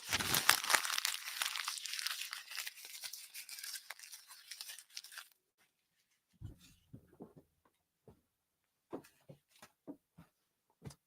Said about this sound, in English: Crimpling the paper was louder. But the paper goes in the garbage.